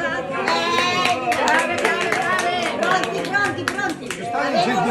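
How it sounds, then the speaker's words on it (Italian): Steady crowd applause at a vintage-style Christmas gathering, dense clapping from many hands that continues without a break, mixed with chatter and overlapping voices. "Un applauso"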